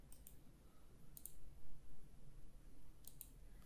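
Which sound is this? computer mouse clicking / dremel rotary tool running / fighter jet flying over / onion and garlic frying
computer mouse clicking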